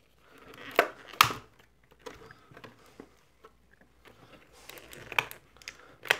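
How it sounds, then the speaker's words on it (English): Scissors snip twist ties on the packaging of a WWE Mattel Elite action figure three-pack: a few sharp close cuts with plastic crinkling and handling noises between them, in a quiet room. "all I'm doing is cutting the twisty ties, which can be really annoying."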